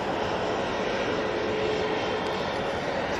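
Embraer jet engines at Manchester Airport give a steady, even roar with no breaks or peaks, holding at a moderate distance for a few seconds.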